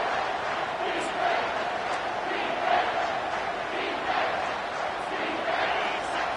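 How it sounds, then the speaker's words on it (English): Steady roar of a large stadium crowd in a Texas college football video game, loud and continuous with swelling surges, a commentator's voice faintly mixed in. "This crowd knows when to bring it."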